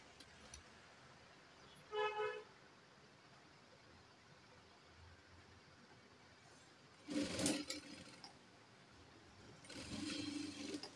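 Sewing machine stitching a folded seam on a princess-cut blouse, heard as three separate bursts of whirring stitching, the last one longer, with quiet room background in between.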